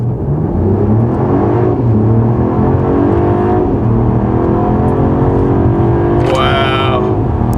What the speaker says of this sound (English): Let's do another 0 to 60 launch here.